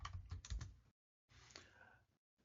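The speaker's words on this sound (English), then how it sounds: "So let me type ifconfig." Soft, quiet keystrokes as a Linux command is typed on a computer keyboard, a short run of taps, then silence, then a few more faint clicks.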